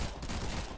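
A Tommy gun fires in the video game Big Fat Battle: a dense, continuous burst of loud, close automatic shots lasting under a second, with no talk.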